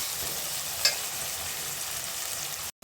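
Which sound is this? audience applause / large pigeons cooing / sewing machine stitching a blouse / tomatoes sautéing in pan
tomatoes sautéing in pan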